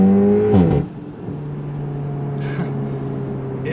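Tuned VW Golf R with a Stage 2 exhaust revving up, then dropping off throttle into a lower steady idle-like drone with a couple of faint crackles, loud and close.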